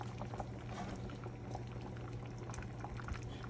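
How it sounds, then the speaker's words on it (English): Crab in a pot of seafood gumbo boils with a soft, continuous bubbling and gurgling, faint and steady, with no talking. "my crab have been cooking for about 20 minutes"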